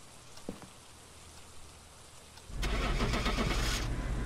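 A vehicle engine starting in the video game Phasmophobia, quiet rain-like hiss at first, then the engine catches and runs steadily and fairly loud.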